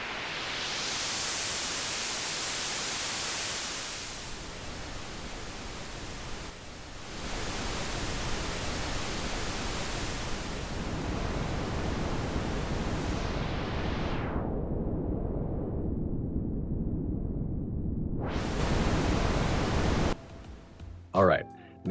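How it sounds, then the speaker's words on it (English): Pink noise from a focus app's colored-noise feature, a steady broadband rain-like hiss that shifts in tone as its muffle-to-clarity setting is swept, then cuts off near the end. "pink noise for a balanced, rain-like sound"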